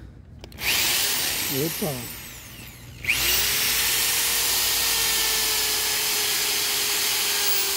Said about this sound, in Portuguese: Aí, faz outro furo aqui do lado aqui pra vocês verem.